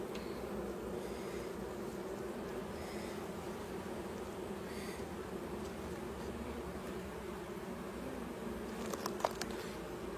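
Honey bees buzz steadily around an opened hive with honey stored in the brood frames, a dense continuous hum close by with a few clicks of frame handling near the end.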